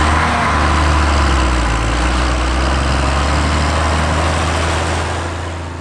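A Schlüter Super Track tractor idles at a field day, its engine a steady, loud low drone that eases off slightly at the end.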